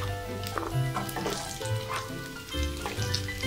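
Green chillies and onion going into a pan of frying chilli chicken, an ongoing sizzle and crackle with a low steady hum underneath and a few soft bumps, nobody speaking.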